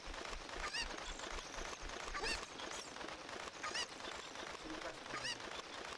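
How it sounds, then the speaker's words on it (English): Cucco chickens in a Zelda: Ocarina of Time randomizer game let out a rapid series of loud, honking squawks, repeating in bursts over a steady bed of game noise. "Come on, chicken, let's go."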